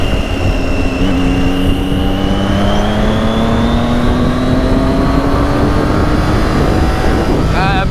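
A Triumph Daytona 675 motorcycle being ridden, its engine a steady close drone that slowly climbs in pitch under constant heavy wind rush.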